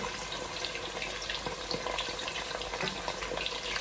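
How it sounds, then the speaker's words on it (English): Chips deep-frying in hot oil for Jamaican fried chicken and chunky chips, a steady dense sizzle and bubbling heard up close and alone. "So you just leave it to fry"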